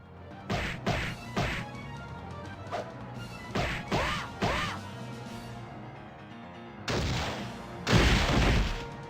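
Repeated heavy cannon blasts in a video game quick time event, several sharp booming shots in uneven succession, the last two longer and louder with rumbling tails, with no talk.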